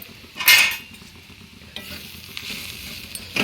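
Onion chutney with chili powder is being stirred in a pan, with a loud scrape of the spoon against metal over a steady, soft frying sizzle and a few lighter clinks.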